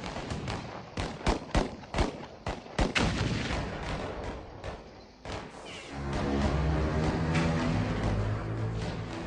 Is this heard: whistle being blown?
no